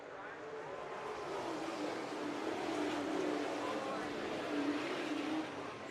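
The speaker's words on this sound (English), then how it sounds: "it is time on a cold day to go racing with the Pro Late Models" Pro Late Model race cars roar around All American Speedway on a cold day, their engines a dense, distant rumbling wash that swells and fades as the pack passes.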